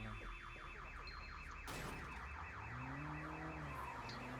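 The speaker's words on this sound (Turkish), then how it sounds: "alarm çaldı" Car alarm in the open-world game Sleeping Dogs, a looping electronic siren warbling steadily throughout with game ambience and a brief crash midway.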